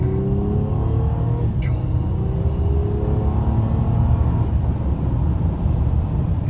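A 2015 Honda Accord EX-L V6 accelerates on a rough road, heard from inside the cabin as a steady engine rumble with a rising tone early on and constant road noise throughout.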